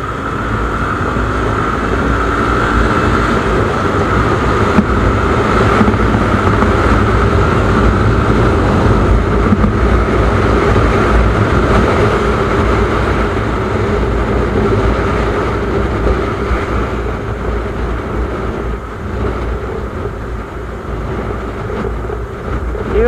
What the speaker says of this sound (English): Let's see how it accelerates in an uphill.